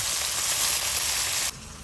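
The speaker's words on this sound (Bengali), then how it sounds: "ঠাকুমা মাছ ভাজা হয়ে গেছে" Fish frying in hot oil in a home kitchen, a close, bright crackling sizzle that runs steadily and then drops abruptly quieter near the end.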